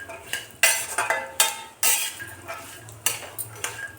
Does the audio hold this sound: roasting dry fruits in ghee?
yes